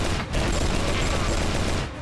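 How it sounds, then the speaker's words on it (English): Dense gunfire in Cyberpunk 2077, a rapid, continuous burst of shots crackling together like a fusillade, steady and fairly loud for about two seconds before tapering off. "suddenly hears screams and gunfire"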